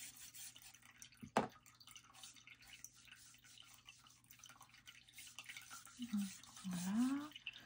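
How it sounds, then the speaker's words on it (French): A paintbrush sloshed and rinsed in a water jar during watercolour painting, giving one sharp splash early on and then soft, quiet watery movement, with a brief voice near the end. "Donc, nettoyer mon pinceau."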